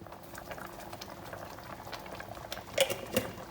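Fish sambal with chili and blended tomato simmers in a pan, giving a soft, continuous bubbling with a few sharper pops toward the end.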